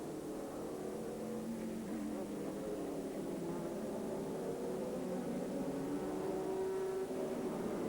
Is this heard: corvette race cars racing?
yes